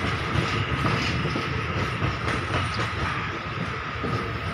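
A long 13-car express train on a Thai railway rolls past close by, with a continuous loud roar of wheels and clickety-clack rail joints and a faint squeal over it.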